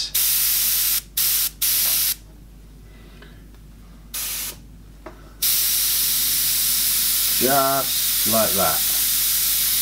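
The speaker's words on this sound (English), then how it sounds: "Just bring in a mist, a very soft mist." Airbrush misting paint very lightly onto a tiger's ear, heard as short hissing bursts followed by a longer steady spray, with brief talk partway through.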